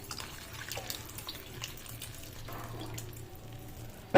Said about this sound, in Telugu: పులుసు ఇలా పోయాలండి